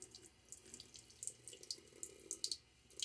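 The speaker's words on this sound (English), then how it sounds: "So why don't I add a little bit of water to the brush" Tap water runs onto a shaving brush at a sink, a close, steady splashing flow with small bright drips and spatters scattered through it.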